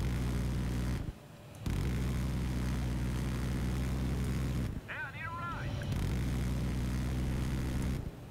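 An airplane roars in Battlefield 3 during an attack on infantry, a steady loud engine drone that cuts out briefly twice, with someone talking at moments.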